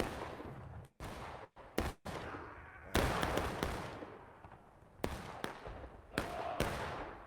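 Confederate artillery and gunfire boom in a Civil War battle video game, sharp loud blasts arriving in irregular clusters with brief quieter gaps between them.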